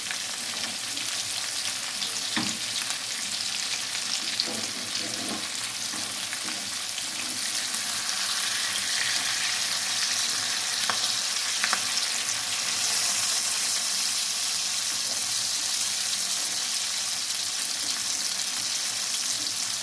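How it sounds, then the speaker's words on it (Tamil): Fish frying in hot oil, a steady broadband sizzle that continues for the whole stretch, with occasional louder pops and crackles and faint stirring; no talking. "இந்த எண்ணெயை ஊற்றி அதில் பொரிக்கிறாங்க பார்த்தீங்களா"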